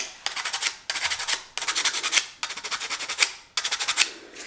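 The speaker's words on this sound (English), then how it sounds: "I'm gonna use this coarse sandpaper, just smoothen up a bit." Coarse sandpaper rubbed over wood in quick back-and-forth strokes, grouped into four or five bursts of rhythmic rasping separated by short pauses, close and fairly clear with no talking.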